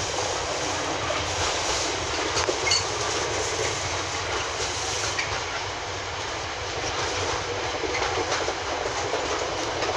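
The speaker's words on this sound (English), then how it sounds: "Our last wagon's just exiting the sidings now. And clear of the up slow." A Class 66 diesel locomotive hauls a freight train past at Peterborough, leaving sidings, producing a steady loud rumble and dense rolling wagon noise with faint clickety-clack, continuous throughout with no speech.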